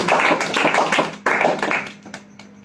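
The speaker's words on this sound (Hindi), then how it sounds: "जोरदार ताली बजाओ हमारे।" An audience at a Bhagavad Gita lecture claps loudly in a dense burst of applause that fades out over a couple of seconds, with no speech over it.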